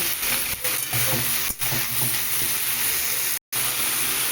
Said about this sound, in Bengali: এইবার ভালো করে এটাকে মেশাবো আর হালকা একটু ভাজা ভাজা করব